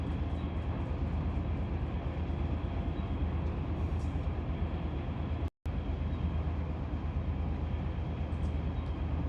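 A train runs at speed in the Run 8 Train Simulator game, giving a steady, loud rumbling drone of wheels and engine that continues throughout, broken only by a split-second dropout midway, with no talking.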